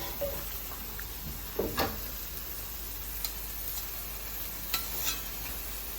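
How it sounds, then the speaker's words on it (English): Red chilies toasting in a dry pot with no oil over a very high flame give a steady faint sizzle and crackle, with a few sharp pops and light scraping stirs breaking through. "Starting to roast the chili."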